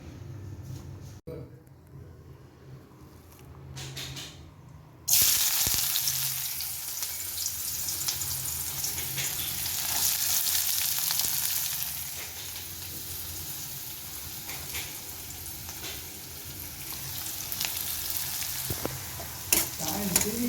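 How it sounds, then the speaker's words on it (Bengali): Rice fried in a pan with two eggs, onion and tomato: a loud, steady hiss of sizzling starts abruptly after a few seconds and runs on, with a voice talking over it. "দুটা ডিম দিয়ে পেঁয়াজ দিয়ে টমেটো দিয়ে ভাতটা ভেজে তারপরে শসা দিয়ে সার্ভ করে দিব"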